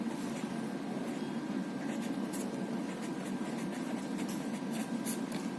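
Chalk or marker scratches across a classroom board as a maths reason is written out, a continuous scraping stroke sound over a steady room hum, with no talking.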